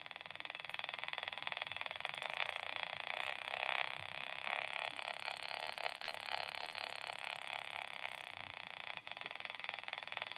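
Steady droning buzz from a homemade magnet reed switch oscillator, picked up through a radio as a continuous faint hum with a constant tone.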